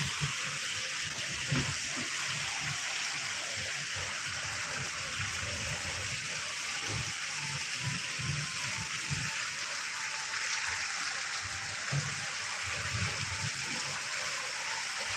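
Heavy rain pours steadily alongside rushing water, a constant dense hiss with no pauses.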